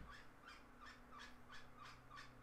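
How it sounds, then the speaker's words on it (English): A bird calls faintly in the background indoors, about eight evenly spaced calls repeating at a steady rhythm, quiet and alone. "Sorry if you can hear the bird in the background."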